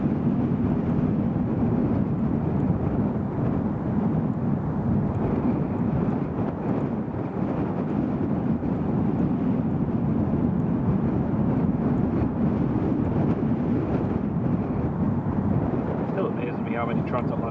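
Steady, loud roar of an airliner arriving at Edinburgh Airport, a broad rumbling drone that holds evenly throughout, with wind buffeting the microphone.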